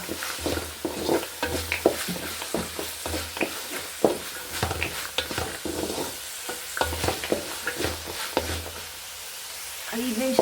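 Spinach rice base frying in a pan on the stove, a steady sizzle broken by repeated scraping and clattering stirs, close and fairly loud with no voices.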